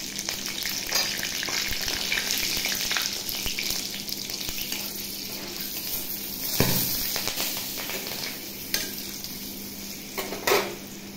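Cumin seeds and two green chillies sizzle steadily in hot white oil in a kadai, with occasional scrapes and clinks of a stirring spoon against the pan and no talking.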